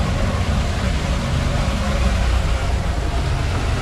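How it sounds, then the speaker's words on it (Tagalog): Steady, loud broadband rush of water flowing beneath a bridge, a dense continuous roar with no pauses. "Ayan po yung maingay tubig."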